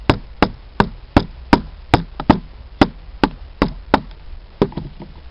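Sharp, repeated knocks of a blade being batoned through small, knotty sticks outdoors in snow, about a dozen close, loud strikes at a fairly steady rhythm with short gaps between.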